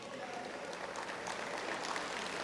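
A church congregation applauds in a soft, distant wash of steady clapping that fills the room evenly, with faint voices murmuring beneath it.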